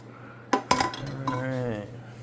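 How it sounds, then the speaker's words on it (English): Dishes and utensils dropped into a sink: two quick clattering knocks of pots and cutlery close by, followed by a brief ringing tail, heard alone without talk. "Put the stuff in the sink."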